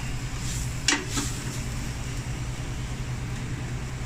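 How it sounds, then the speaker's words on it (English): Chili mix noodles being stirred in a pan, a couple of brief scraping strokes near the start over a steady low kitchen hum, otherwise quiet. "Just gonna stir it through."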